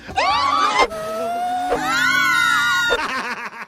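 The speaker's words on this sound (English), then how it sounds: "Time to scream." A person screams loudly and dramatically in a staged reenactment, with three long, wavering, high-pitched cries separated by short breaks, close and alone with no speech.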